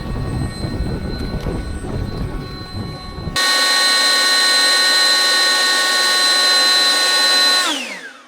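A cordless leaf blower in turbo boost mode (ECHO CPLB-58V or STIHL BGA 57) blowing a box, heard as rough airy noise that abruptly jumps into a loud, steady high-pitched whine, held for several seconds before spinning down at the end.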